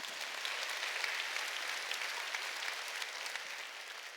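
Church congregation applauding during a Sunday service, a dense, even wash of clapping from many hands, fairly faint and distant, with no talk over it.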